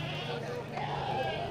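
At a quiet goat market stall before the fasting month, faint goat bleats rise in the background under steady chatter from people close by.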